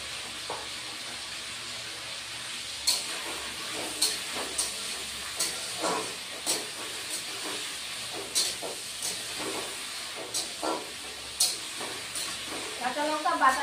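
Potato and sweet pumpkin pieces frying with green chili paste give a steady hiss and sizzle, broken by regular soft scraping stir strokes every second or so; a voice speaks briefly at times.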